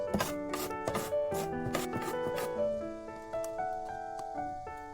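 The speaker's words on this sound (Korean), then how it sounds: "호박의 양끝을 자르고 호박을 채칼로 썰어줍니다." Zucchini with its ends trimmed is julienned on a slicer in a kitchen, a quick run of close, crisp scraping strokes that slow into softer, scattered rubbing swipes, with no talking.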